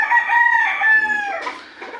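A backyard rooster crows loudly and close, one long harmonic call held for about a second and a half before trailing off, with the faint clucking of other chickens nearby.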